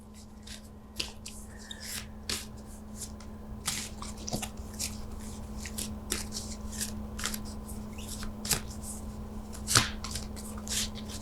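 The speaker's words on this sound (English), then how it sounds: "When I feel like there's a card that energetically feels right in my hand, I'm gonna pull it out." Oracle cards shuffled and fingered in the hands while one is drawn from the deck, a series of soft close-up flicks and taps over a quiet room hum.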